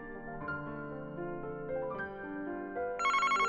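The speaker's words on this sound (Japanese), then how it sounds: "電話だわ" A telephone rings in the video game Famicom Detective Club: The Missing Heir, a chiming electronic ring that turns louder and brighter near the end over steady game music.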